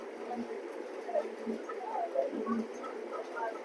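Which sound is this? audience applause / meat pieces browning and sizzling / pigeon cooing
pigeon cooing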